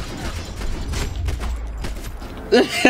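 Dual pistols firing in the shooter game Max Payne 3, a quick series of sharp shots against a rumbling game background, with a voice briefly talking near the end.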